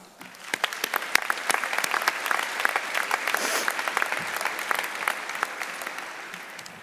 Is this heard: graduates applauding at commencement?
yes